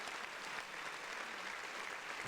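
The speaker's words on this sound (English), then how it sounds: "I couldn't hear you over the round of applause" Audience applause during a podcast, a faint, steady patter of clapping heard alone for a couple of seconds.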